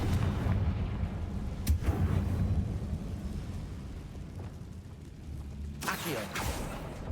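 Blasting-spell explosions in the fantasy video game Hogwarts Legacy, set in the Feldcroft catacombs: a sharp blast early on and another burst near the end, over a continuous rumbling game background.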